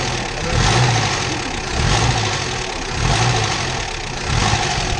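A Moskvich 403 engine idles with a low, steady rumble that swells and eases in slow, regular pulses, close by and with no talking.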